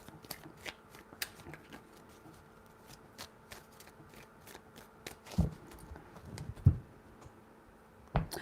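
Tarot cards being shuffled by hand in a quiet room, heard as soft papery riffling with scattered sharp ticks and a few heavier thuds near the end, close and alone.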